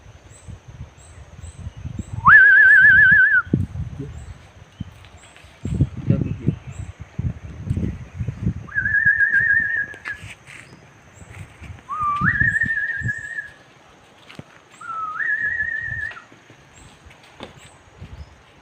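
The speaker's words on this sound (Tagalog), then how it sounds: "pakinggan natin ang tinig ng ibon" Clear whistled bird calls ring out in short phrases, spaced a few seconds apart, over soft rustling and low background noise.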